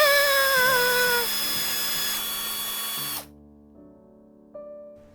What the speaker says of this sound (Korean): 예전에 사놨던 드릴로 목 부분에 철사구멍을 뚫어줬어요.